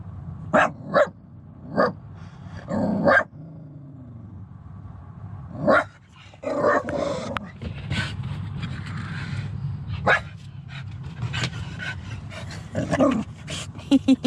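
A dog indoors in a car-and-home setting in London barks in short sharp bursts and growls between them, loud and near, with quiet gaps and some low background noise.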